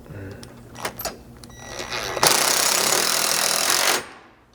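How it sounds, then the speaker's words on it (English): Roof rack mount bolts on a Polaris Ranger are tightened with a 17mm socket: a few light metallic clicks, then a loud, close, rattling power-tool burst of about two seconds that stops abruptly. "Then switching back to a 17mm socket, and again just kind of holding pressure from the back side, you should be able to tighten both of these up"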